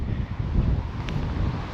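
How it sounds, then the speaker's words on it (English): Steady wind buffeting the microphone on a hilltop at Slitt Mine, Weardale, a low continuous rumble with gusty swells and no other sounds. "Very windy on top of here."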